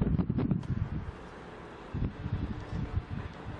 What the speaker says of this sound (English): Wow, it really was quite windy